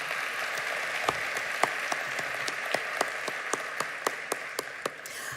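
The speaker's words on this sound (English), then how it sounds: "that round of applause doesn't sound as excited as I was" An audience at an AI summit plenary session gives moderate applause, a fairly quiet, continuous patter of clapping with a few sharper nearby claps standing out in an irregular rhythm.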